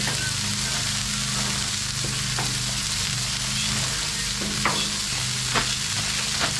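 Frozen burger patties sizzle on a hot Blackstone griddle, a loud, dense, steady frying hiss with a few faint scrapes and clicks, close by and without talk.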